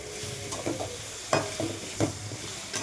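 Potatoes, tomato and capsicum being stirred in a pan, a spoon scraping in several distinct strokes over a low, steady sizzle, close and moderately quiet with no talking.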